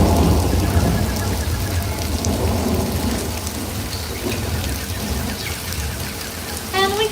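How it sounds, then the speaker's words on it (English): Artificial rain from theme park sprinklers falls steadily as a loud, dense hiss, with rumbling thunder sound effects played through speakers throughout a simulated storm at Universal Studios Hollywood. "That rain is coming from sprinklers, shooting the water up into the air and letting gravity bring it down naturally."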